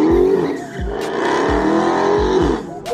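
A Dodge Hellcat at a stunt show pulses its engine through several rhythmic revs and a throaty roar, with tire squeal, loud and close for a few seconds.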